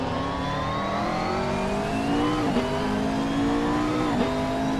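A race car on the Magione circuit in a GT racing series round holds a loud, steady engine howl through a turn. The pitch drops sharply twice as the car upshifts, with no talking.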